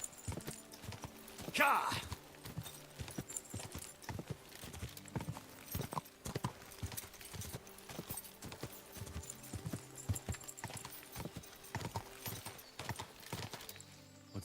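Horse hooves clip-clop at a steady walking rhythm in Kingdom Come: Deliverance II, close and clear throughout, with a brief whinny near the start and occasional speech.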